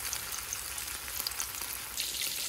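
Cordon bleu frying in hot oil that was earlier used to fry chicken, giving a steady, dense, close sizzle that crackles without pause throughout.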